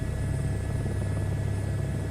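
A helicopter in a VR flight simulator game drones steadily, a low rotor rumble with a constant engine whine and faint high tones, even and unbroken throughout, with no voices.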